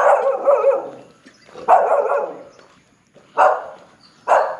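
Dogs bark on a street in the Philippines, several deep loud barks in clustered bursts with short pauses between them, fairly close and carrying clearly without talk.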